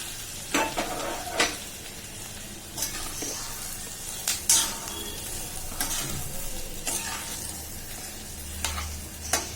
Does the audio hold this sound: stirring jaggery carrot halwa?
yes